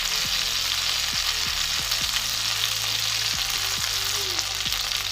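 Crab frying in hot oil: a steady, dense sizzle and crackle that goes on without a break, with a few faint low clunks of the pan underneath.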